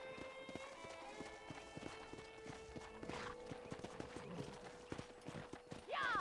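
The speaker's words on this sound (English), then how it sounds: "let's see if you can still ride a horse." Horse hooves clip-clop at a steady riding rhythm in the Red Dead Redemption video game on a ranch, close and clear over a faint background with a brief whinny-like sound near the end.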